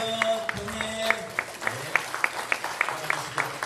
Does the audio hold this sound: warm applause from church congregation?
yes